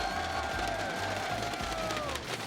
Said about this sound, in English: Another big round of applause for EG Jaedong,